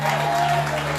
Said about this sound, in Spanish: Un aplauso al Señor esta tarde